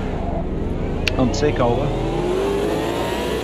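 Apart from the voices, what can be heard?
V8 engine burble of a car mod in AMS2 video game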